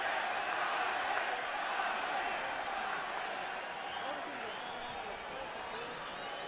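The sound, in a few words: boxing arena crowd chanting for a fighter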